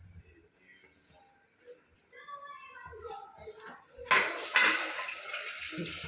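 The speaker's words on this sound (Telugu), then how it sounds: "నీళ్ళు పోస్తాం." Someone talks quietly, then water pours splashing into a pot of cooked lentils, a bright rushing burst lasting about two seconds near the end.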